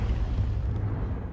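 Confringo explosive spell cast in Hogwarts Legacy, a dense, rumbling low blast that holds steady and loud through the moment, with no voices over it.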